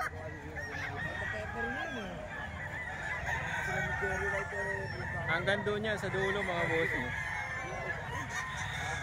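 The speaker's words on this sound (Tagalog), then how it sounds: "Daming manok" Many roosters and chickens crowing and clucking at once in a noisy, crowded market space, with someone talking over the din.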